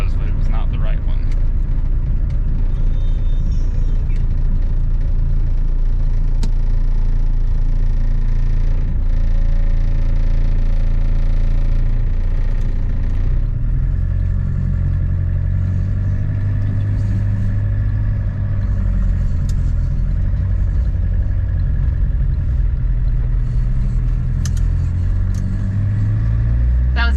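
A 1981 VW Dasher diesel drives along with a steady, loud engine rumble and droning road noise, engine note shifting as gears change, with a voice talking over it throughout.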